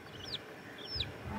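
Chickens on a poultry farm give a couple of short clucks, close and moderately loud against a quiet background.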